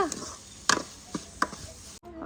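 A few sharp, separate knife taps of paneer being chopped on a cutting board, spaced irregularly, close and fairly quiet.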